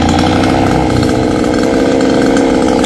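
A chainsaw cutting a branch of a large golden wattle tree runs loud and steady at full throttle for the whole stretch, its engine droning close by without a break.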